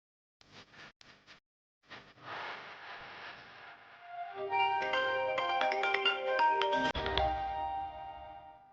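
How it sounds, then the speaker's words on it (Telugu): A phone ringtone for an incoming call, starting with short separate beeps, then a melodic electronic tune that grows louder and fuller with layered tones, playing alone at a moderate level. "శృతి ఫోన్ చేస్తుంది ఏంటి?"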